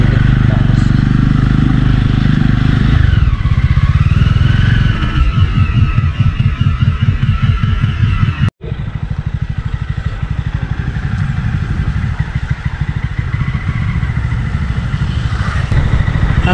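A motorcycle rides along a cloudy, slippery mountain road near Munnar toward Kanthalloor, its engine thrumming close and steady with wind noise throughout.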